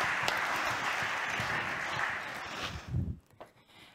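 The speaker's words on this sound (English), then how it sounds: "please welcome with a big applause the first presenter" Audience applause at an innovation conference in Brno, a continuous wash of clapping from a seated crowd that holds steady, then tapers off with a few scattered claps near the end.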